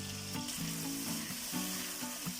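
Spiced tadka tempering for moong masoor dal sizzles steadily in a hot pan, a close, continuous frying crackle with brief bursts of stirring and no talk.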